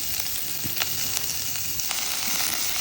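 Onions sizzling and frying in hot oil with tempering seeds in a pan, a steady broadband crackle throughout with faint stirring clicks, close and continuous with no voices.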